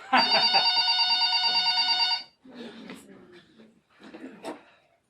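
A telephone bell rings loudly and steadily for about two seconds, then stops as voices speak over a quiet room.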